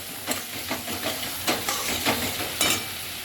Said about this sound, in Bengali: দইটাকে এরম করে নাড়তে থাকতে হবে